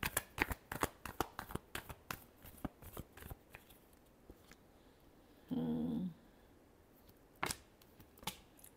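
Tarot cards shuffled by hand, a series of crisp, quiet riffling snaps in an uneven rhythm with a brief continuous riffle midway, close and alone without talk.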